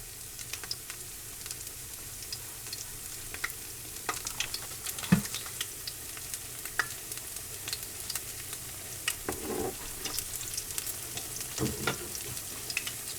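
Fish fritters made from pantry ingredients fry in a pan, producing a continuous close sizzle with scattered crackles and pops and a few clicks from stirring or turning, with no voices.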